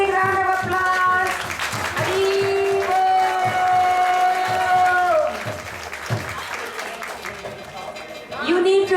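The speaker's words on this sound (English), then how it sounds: "Let's give them a big, big round of applause." Audience clapping at a Sunday temple festival in Atlanta, dense and continuous over sustained singing or chanting with a musical drone, the clapping thinning briefly near the end before surging again.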